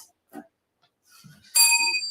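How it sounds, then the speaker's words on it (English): A hand bell is struck once on a stage at a speaking event and rings out with a bright, sustained metallic tone that lingers to the end, after a few faint shuffles in an otherwise quiet room. "You may ring the bell and have a seat."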